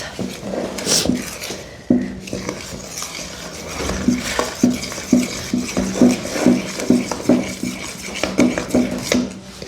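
Dough batter for village-baked bread is mixed by hand in a bowl, giving a close, rhythmic series of wet slapping and squelching strokes that grow steadier and more regular over time.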